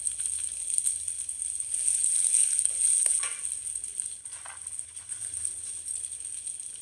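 Chopped ginger and green chillies sizzle in hot oil for a ginger thuvaiyal chutney. A steady, bright hiss runs throughout, with scattered light crackles and no speech.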